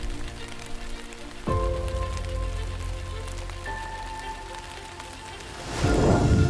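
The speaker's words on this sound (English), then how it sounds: "One day, yellow rain fell from the sky." Rain patters steadily on a surface with a low rumble underneath and a brief swell near the end, fairly close and with no voices.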